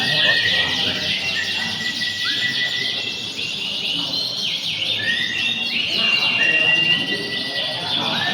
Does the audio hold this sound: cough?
no